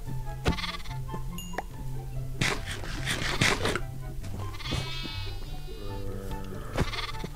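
Sheep in Minecraft with the Energetic Sheep mod bleat repeatedly in wavering, nasal cries, loud and close, over a steady low game hum with scattered clicks and thumps.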